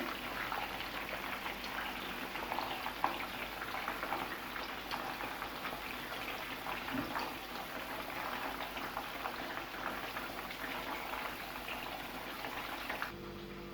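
Chicken cheese balls fry in a pan of oil with a steady, soft bubbling sizzle and fine crackle, even and uninterrupted throughout.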